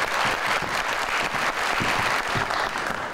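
Studio audience of a Pakistani television talk show claps loudly and steadily as guests take their seats, a dense continuous wash of hands without pause.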